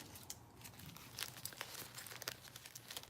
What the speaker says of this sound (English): And next up, I have a plastic bag.